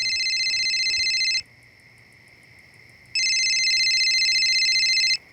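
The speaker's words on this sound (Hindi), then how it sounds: "हाँ तेरा फोन बज रहा है।" A phone rings at night in a home in a crime drama, two loud electronic ring bursts of about one and a half seconds each, separated by a quieter pause over a faint low hum.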